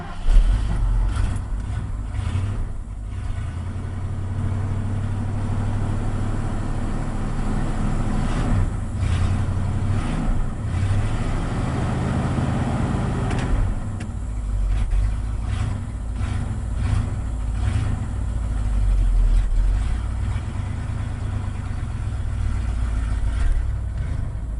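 A 1980 Ford F100 pickup engine running after a cold start, a steady low rumbling idle with slight rises in revs, close and continuous for the whole stretch with no talking.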